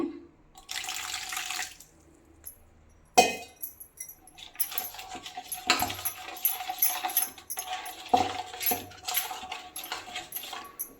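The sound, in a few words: water being poured lightly onto fish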